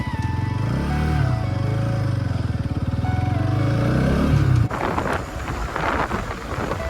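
A Bajaj Pulsar 220 motorcycle with a bubbling tyre and a damaged engine rides along, its engine droning and rising in pitch under wind roar before the engine note cuts away, leaving gusty wind buffeting.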